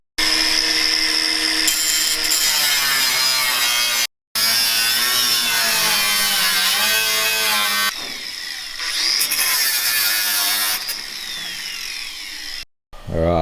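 A power tool cuts parts off a 93-year-old hot rod coupe with a loud, close, whining roar that rises and falls in pitch. It stops briefly a few times before starting again.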